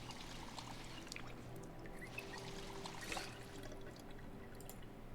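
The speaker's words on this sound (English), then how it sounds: "fill everything up with some water." Water pouring into containers in the Project Zomboid video game, a steady liquid trickle running throughout over a constant low game hum, moderately loud with no talk.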